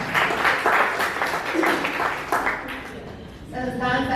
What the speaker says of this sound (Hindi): बहनों के लिए तालियां